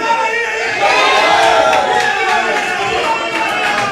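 Dense, steady crowd roar with shouts and cheering throughout a pool final between Ibrahim Kayanja and Kelvin Fikoti, loud and sustained with no clear lull.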